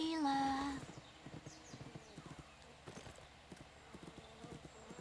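In the Unicorn Princess video game, a horse whinnies loudly at the start, then its hooves clip-clop in a steady, light rhythm under quiet background sound.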